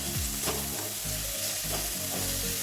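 Steady sizzling of chopped tomatoes frying in ghee in a pan, with spoon scrapes and stirring knocks repeating over a dense, crackling hiss.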